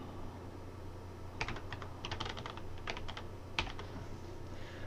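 A password is typed on a computer keyboard in two short bursts of crisp, close key clicks over a faint, steady hum.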